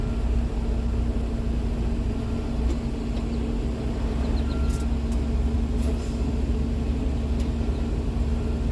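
A tractor trailer reverses toward a cone and its landing gear, giving a steady low engine rumble with even broadband noise throughout, close and constant, with no talk.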